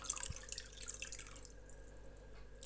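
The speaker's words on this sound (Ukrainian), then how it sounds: "І зараз вливаємо наш розведений фермент." Diluted rennet enzyme goes into milk while Gouda cheese is made at home, heard as a brief close trickle and splash with a few drips that then fade. Nobody speaks.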